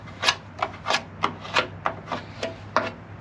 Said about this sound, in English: sanding it off